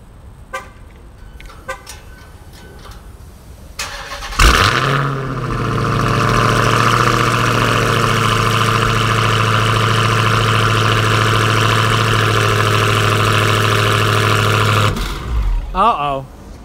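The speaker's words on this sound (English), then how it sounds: "Let's do a cold start. Let's just start her up." A Dodge SRT cold-starts with a sudden loud crank and catch, then settles into a steady, deep, near idle that holds for about ten seconds before cutting off; brief clicks come before the start.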